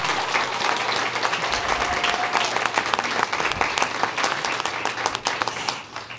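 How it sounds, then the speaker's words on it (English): Audience applause for the final twelve spelling bee contestants at a regional spelling bee, a steady, dense round of clapping from a large crowd that holds for about six seconds before tapering slightly. "Let's give them one more round of applause."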